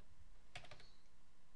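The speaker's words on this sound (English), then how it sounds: "enter in a new price, and hit enter on your keyboard." A few quick keystrokes on a computer keyboard tap out in a short burst of four or five light clicks, faint and close against a quiet background.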